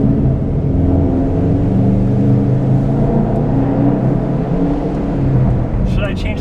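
A modified Subaru WRX or STI rumbles steadily from inside the cabin while driving, a continuous low engine drone with road noise; people talk in the car.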